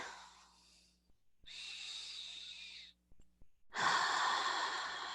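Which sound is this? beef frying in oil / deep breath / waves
deep breath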